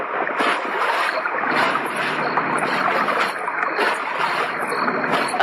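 Water splashes and sloshes continuously as someone wades across a river, a dense, close churning wash with no pauses and no talking.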